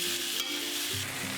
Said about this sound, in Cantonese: 煎香一面，再反轉另一面煎至金黃色。